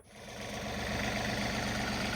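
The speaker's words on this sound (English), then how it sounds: "I think I'll fire up the tractor and load the bucket up" A tractor engine catches and settles into a steady, loud, rumbling idle close by, with no voices.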